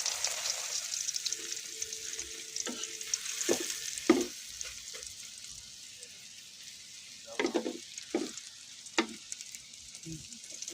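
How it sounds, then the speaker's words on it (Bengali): A flipped egg fries in oil in a pan with a quiet, steady sizzle, punctuated by several sharp scrapes and taps of a spatula against the pan's surface. "এই যে ডিম ভাজি ঢেলে দিলাম।"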